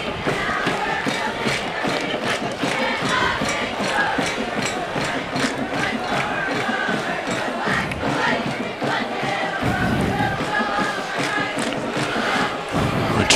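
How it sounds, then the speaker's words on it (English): A packed crowd cheers at a high school homecoming football game, with cheer teams, a dance team and a band making noise, a dense, continuous roar of voices, drums and thuds throughout. "Cheer teams, dance team, and band making some noise"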